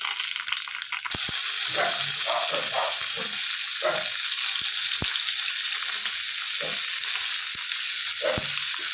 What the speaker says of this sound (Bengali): তেল এবং পটল তো এটা হচ্ছে কি এর নাম পাকা পটল ভাজা